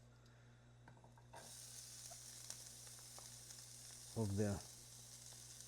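Half an onion goes into hot oil for Venezuelan pabellón criollo and starts sizzling in a steady, close hiss after a quiet start, with a brief clatter of stirring partway through and a few words of talk.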